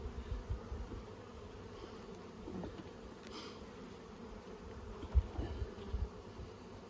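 Bees buzz around open hives at Nymboida during spring brood-box inspection, a faint continuous drone with occasional louder close passes and soft handling thumps.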